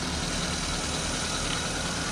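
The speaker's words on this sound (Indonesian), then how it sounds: "Ini suara mesinnya masih halus." Suzuki Karimun Estilo 2008 with a 1100 cc engine idling smoothly, a steady even rumble that holds close and constant throughout.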